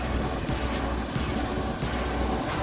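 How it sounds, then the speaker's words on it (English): Loud, steady in-flight roar from the deployed ram air turbine of a Global Express business jet, a constant droning whir mixed with airflow and engine noise, no voices. "Here's the Ram Air Turbine."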